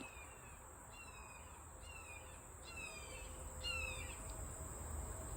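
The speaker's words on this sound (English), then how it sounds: "Hear that bird?" A bird gives a few short, repeated chirping calls at a distance, under a steady outdoor hum of insects.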